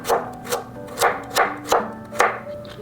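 Knife chopping carrots into pieces on a cutting board, five or six crisp, evenly spaced thuds close up, with no talk.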